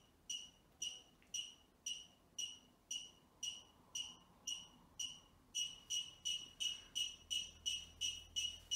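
A smart anti-theft backpack alarm sounds in a run of sharp electronic beeps, regular at first and then quickening into faster pulses, fairly quiet and alone.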